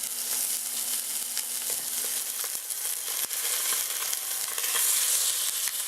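A chuck roast sears in a pan with a steady, close sizzle and crackle throughout, joined by a few faint clicks and a light scraping sound, with no talking.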